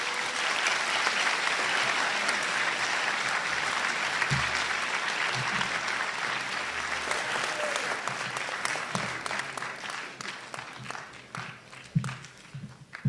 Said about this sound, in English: if we could once again give a round of applause for all of our deserved recipients